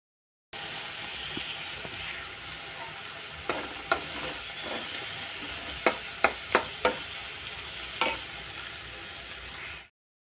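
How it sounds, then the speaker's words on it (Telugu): Chopped onions and green chillies sizzle steadily in a hot pan for a dry prawn curry, with a few sharp clacks of a spoon stirring against the pan. "ఉల్లిపాయలు, పచ్చిమిరపకాయలు వేసుకుని బాగా వేగనిచ్చుకోవాలి"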